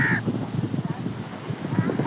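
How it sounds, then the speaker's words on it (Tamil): A crow caws repeatedly near a live-streaming speaker in Velankanni, its harsh calls mixed with ongoing Tamil talk and steady background noise. "வணக்கம் வணக்கம் காகம்."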